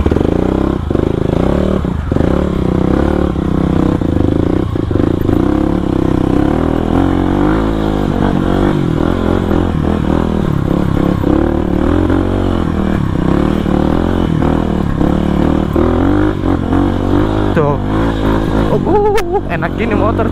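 Supermoto motorcycle engine running on a mountain trail up Puncak Upas, Tangkuban Parahu, a steady loud drone with rattles and clatter throughout, mixed with people talking nearby.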